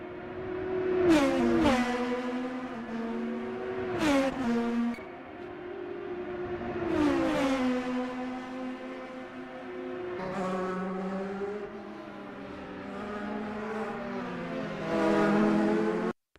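Dallara IR18 IndyCar onboard in a racing video game on the Indianapolis road course: a high, buzzing engine revs up and down through repeated gear shifts and braking dips, loud and close.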